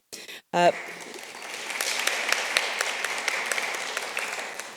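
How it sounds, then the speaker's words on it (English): An audience at a diamond industry conference breaks into a round of applause that builds to a steady, moderately loud clapping after a short spoken opening. "A spontaneous round of applause."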